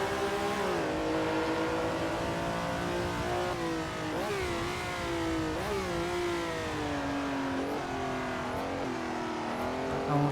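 Vintage race car engines, among them a Porsche, scream and rev as they overtake in a 1967 Daytona Continental 24-hour race in a PC racing game; the pitch climbs and drops with gear changes, loud and continuous.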